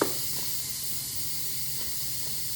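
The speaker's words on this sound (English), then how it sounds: "The more liquid you had in here to begin with, the longer it will take to manually release all that steam." A pressure cooker hisses in a loud, steady rush as its steam is released by hand while salsa chicken with rice cooks. The sound stays unbroken and even throughout, close to the listener.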